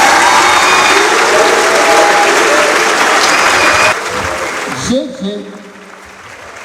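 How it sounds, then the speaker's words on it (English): Dense applause from an audience at the end of a talk in a mining speaker series, loud and steady for about four seconds, then thinning out as a few voices come in near the end. "a round of applause, ladies and gentlemen"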